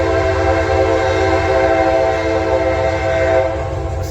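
A train rumbles past while its horn blares in a long, loud sustained chord that fades near the end.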